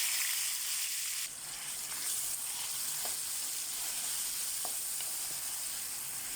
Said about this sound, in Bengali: গরম গেছে, দিয়ে দিয়েছি পেঁয়াজ কুচি